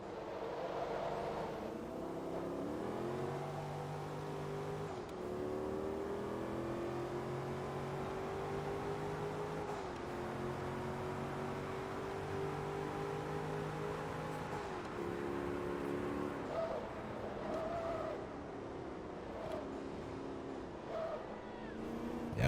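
Racing Corvette engine in Forza Motorsport 2 droning steadily through a touring cup race, revs climbing and dropping through gear changes, with short dips during shifts and braking; sustained and moderately loud.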